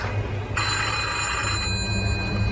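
A telephone rings steadily inside an abandoned structure, its electronic bell tone continuing for a couple of seconds over a low, rumbling background hum.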